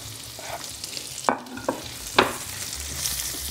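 Pork fat (salo) with onion sizzling steadily in a frying pan, with a few sharp clicks and scrapes of stirring standing out over the continuous frying hiss.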